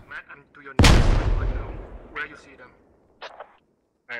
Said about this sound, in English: I think someone's just rearming and throwing all the grenades they can